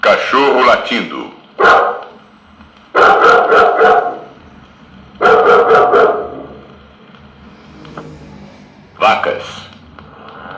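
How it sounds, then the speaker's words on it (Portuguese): A dog barks from a cinema sound-effects vinyl record in loud, close bursts of one to three barks separated by short pauses, with a faint whine between, no talking. "Cachorro latindo."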